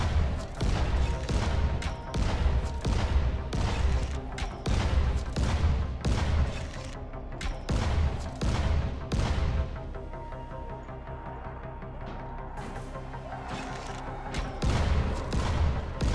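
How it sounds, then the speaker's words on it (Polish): Rapid, heavy explosive gunshots and booming blasts in the video game Dying Light fire in bursts, loud and close, with a brief lull before the shooting resumes. "Wybuchające strzały zawsze na propsie."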